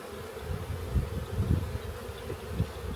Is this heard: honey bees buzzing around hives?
yes